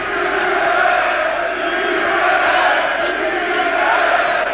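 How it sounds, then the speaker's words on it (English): A boxing arena crowd roars for Chris Eubank at his WBO super middleweight bout with Thulani Malinga, a loud, sustained wall of cheering and shouting that holds steady from start to finish. "that's the loudest cheer that Eubank, I'm sure, has had in his career"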